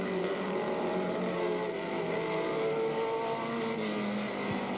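Race cars running on a track during a race, a continuous engine drone with shifting pitch from several cars, steady and moderately distant, with no talk.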